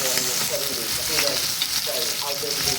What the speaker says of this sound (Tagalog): Ngayon ay magsuti tayo ng bawang, sibuyas at onion spring.